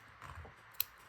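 Scissors snip through small doily-like craft pieces, a faint rustle followed by a single crisp, close cut, quiet overall.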